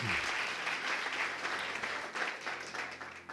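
A church congregation bursts into applause, a continuous wash of many hands clapping at moderate distance, fairly soft and steady.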